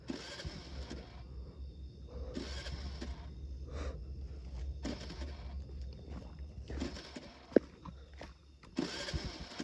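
A motorcycle engine starting on its own at a campsite, cranking and catching in repeated bursts of a few seconds each, separated by quiet gaps, heard from a short distance.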